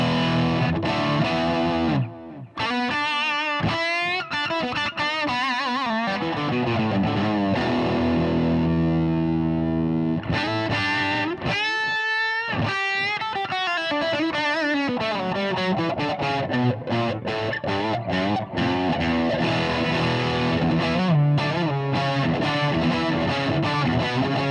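Electric guitar through a TC Electronic Dark Matter distortion pedal with all knobs at noon: loud, heavily saturated chords and riffs, with a brief pause early on and a stretch of bending, warbling lead notes.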